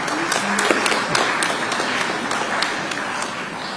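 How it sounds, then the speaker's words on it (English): Audience applause in a formal hall during an MOU and deal signing ceremony, a steady wash of many hands clapping at moderate distance, sustained for several seconds without voices. "Let's give that another round of applause."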